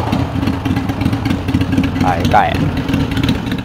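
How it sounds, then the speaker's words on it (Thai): A 2010 Harley-Davidson Iron 883, converted to 1200 with a tuned idle and Fuelpak 3, gives a deep, steady, pulsing exhaust rumble close by while people talk over it. "โอ้เสียงท่อโคตรนุ่มอ่ะ"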